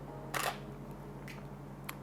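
A Canon 6D's shutter fires once in a quiet studio during a two-light photoshoot, a crisp close mechanical click followed by a couple of fainter ticks.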